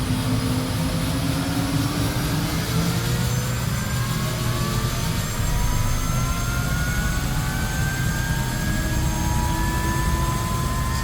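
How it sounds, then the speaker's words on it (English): Steady, loud helicopter cabin noise recorded binaurally in the cockpit: a dense engine roar and low rotor throb fill the whole stretch without letting up. "lots of helicopter sounds in binaural. I've also recorded the interior"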